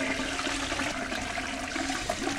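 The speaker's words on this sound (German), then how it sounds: "Und wenn ich jetzt die Spülung betätige?" A toilet flush in the adventure game Chaos auf Deponia gives a steady, loud rush of water that continues without a break, with no talk over it.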